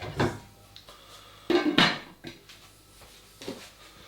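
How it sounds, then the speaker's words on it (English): A metal lid clatters back onto a cooking pot of sticky spiced lamb shanks, a few close knocks and scrapes with a sharp clunk in the middle, no talking. "Put the lid back on, see you later."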